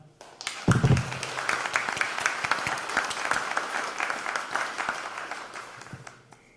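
Audience applause welcoming the moderator of a panel on Louisiana's coastal Indigenous communities, a sustained, dense wash of clapping from many hands that holds steady for several seconds before tapering slightly.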